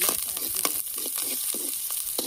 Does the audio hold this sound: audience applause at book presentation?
no